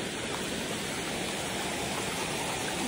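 Rainwater runs steadily along a walking route, a constant close rushing wash like a small stream, unbroken and without voices.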